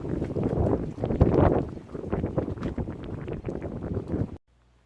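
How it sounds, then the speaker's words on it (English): Strong gusting northwest wind roars and buffets the microphone continuously outdoors, a loud rumbling rush that cuts off abruptly at the end. "The wind's coming out of the northwest and it is just howling"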